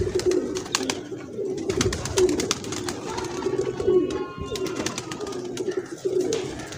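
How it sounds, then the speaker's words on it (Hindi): A grey pigeon coos in low, repeated notes beneath a busy outdoor background of clicks, rustling and other noise, with no clear speech. "ये है जी कबूतर"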